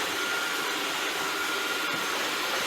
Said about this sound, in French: Et voilà, il aspire.